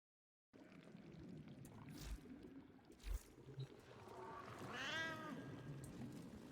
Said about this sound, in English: My cat is so loud.